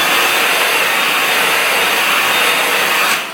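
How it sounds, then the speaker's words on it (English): Handheld blow dryer passed over a wet wig during a wig install, a loud, steady close-up whoosh of blowing air held for a few seconds before tapering off at the end. "I'm going to pass my blow dryer over it for like a second."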